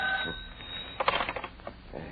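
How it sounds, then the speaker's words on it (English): A telephone rings indoors, a short bright ringing burst heard on an old narrow-band recording, fairly close and alone. "the phone rings"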